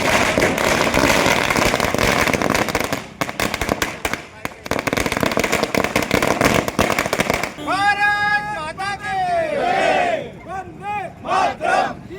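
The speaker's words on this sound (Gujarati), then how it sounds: "ફટાકડા ફોડી અને જીતના જશ્નની ઉજવણી કરી છે" Firecrackers crackle in rapid, dense bursts at a BJP victory celebration in Waghodia taluka after the Bihar election results. A cheering crowd shouts over them, and the bursts thin to scattered pops as voices take over.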